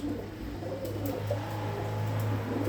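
Soft, low cooing of pigeons repeats steadily over a constant low hum, fairly close, with no voices.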